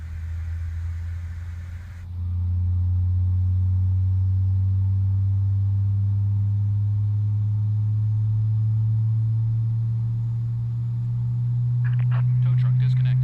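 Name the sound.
CRJ jet engine spooling up in Microsoft Flight Simulator (video game)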